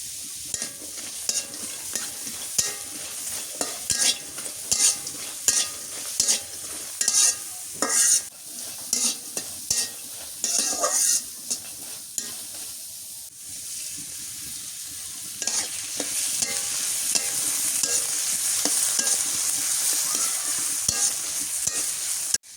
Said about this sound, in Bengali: আগে পেঁয়াজ আর মরিচ ভাজা নি